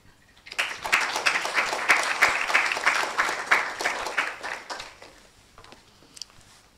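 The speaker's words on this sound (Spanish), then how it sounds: "Lo recibimos con un aplauso." An audience at an academic lecture on avian antibody transfer bursts into applause welcoming a speaker, dense clapping building quickly, holding steady for several seconds, then thinning out to a few last claps.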